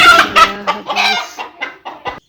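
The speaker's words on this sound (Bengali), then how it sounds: "মুরগিকে খেতে দেওয়া হয়েছে আস্তে আস্তে মুরগিগুলো উঠে যাচ্ছে" Chickens clucking up close while feeding, a quick run of loud, separate clucks and squawks that trail off into a few softer clucks.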